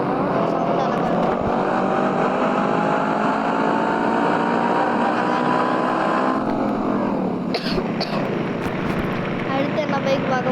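Engine of a Tron bike, a loud sustained whine and roar with a slow pitch rise, then a sharp drop and rev change toward the end, with a few clicks and a voice speaking over it.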